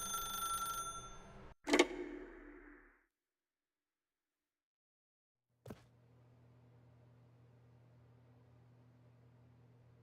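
A telephone in the video game The Stanley Parable gives a single loud bell ring that decays, then silence, a click and a low steady hum.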